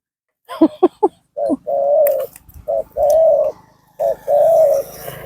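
A spotted dove coos close by: a few quick low notes, then three long mellow rolling coos with short pauses between them, clear against a quiet background.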